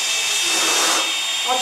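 Small drone motors spinning up together, a close, loud, whining buzz that holds steady over a short moment.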